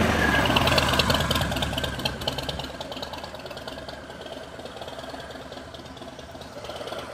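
A 1967 Ford Mustang Fastback engine runs with a steady mid-pitched idle, louder at first and then settling into an even, continuous rumble with faint mechanical ticking.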